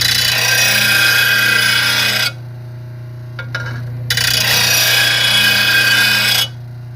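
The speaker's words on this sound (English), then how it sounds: "So you make sure you sharpen up your blades real good and then install it." A power tool grinds a lawn mower blade to sharpen it: two loud, steady, harsh abrasive bursts, each a couple of seconds long, separated by a short pause, with no talking.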